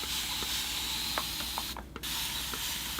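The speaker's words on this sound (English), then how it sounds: "So I'll spray it with water." A steady hissing water spray on the trunk of a Ficus religiosa bonsai runs throughout, broken by a brief pause near the end, with a few faint clicks of a trigger or nozzle.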